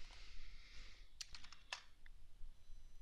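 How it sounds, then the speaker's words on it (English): Login details are typed on a computer keyboard: a short cluster of crisp keystroke clicks in the middle, with a steady background hiss and no voices. "I'm going to type in my creds."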